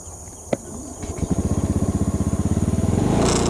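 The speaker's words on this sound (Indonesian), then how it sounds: "Kita nyalakan mesin dulu." An engine is started in a farm field among sugarcane: a sharp click, then a sputtering catch that builds into a fast, evenly pulsing chug growing louder and steadier as it settles into running.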